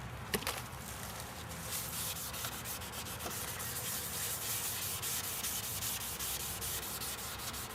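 A car headlight lens is scoured by hand, giving a steady, close, continuous rasping rub with a brief sharper scrape near the start and no talk.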